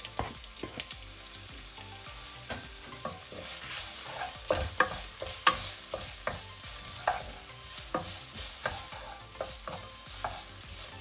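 Onion and green pepper slices sizzle over medium-low heat in a pan, a steady low crackle broken by frequent scraping and clicking strokes of a utensil, close and fairly quiet, with no voices.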